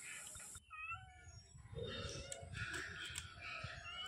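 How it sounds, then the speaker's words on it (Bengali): Pet cat meowing beside a woman cutting a large snakehead fish, a few close, drawn-out mews over faint background chatter and household noise. "দেখো ওদিকে দেখেছো পুষি ক্যাট মার পাশে এসে বসে পড়েছে খাওয়ার জন্য।"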